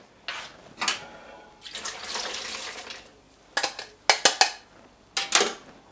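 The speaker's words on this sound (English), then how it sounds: "If you rinse it in water first and release all the starch off of the outside of it" Water splashes and runs in bursts as rice is swished and rinsed under a running tap in a container, with intermittent clatter and pauses between pours.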